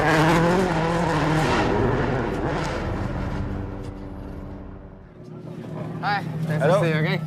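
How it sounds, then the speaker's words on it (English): Rally cars slide around the course at the Goodwood Festival of Speed, engines droning and rising in pitch under a narrating voice that continues over most of the stretch. "Legendary cars and drivers from across the generations flick and slide around the course"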